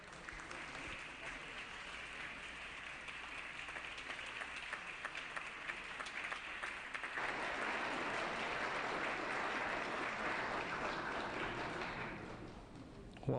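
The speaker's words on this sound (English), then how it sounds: "Let's give a warm round of applause to Sathya San" A fairly distant, quiet round of applause fills a legislative assembly floor session, holding steady and then swelling somewhat louder in the second half before fading near the end.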